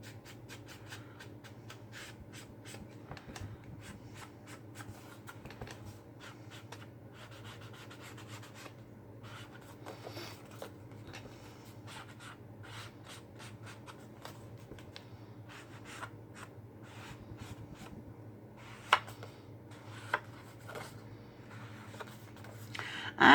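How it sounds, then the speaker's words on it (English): Dry rubbing and scraping as the edges of a paper Christmas card are distressed, a steady close scuffing texture with scattered small scratchy strokes throughout, growing a little louder near the end, with no talking. "I'm going to go ahead and distress the edges of my"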